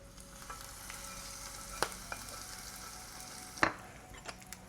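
A mixture is stirred into a pan with scallions and sesame oil, a faint steady frying hiss broken by a couple of sharp utensil clacks against the pan.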